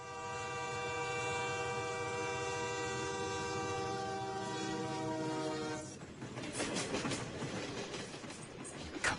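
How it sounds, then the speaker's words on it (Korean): A train horn blares for several seconds, then the clatter and rumble of rail cars rolls past, rhythmic clicks over the tracks. "갑자기 웬 기차 소리가 들리죠?"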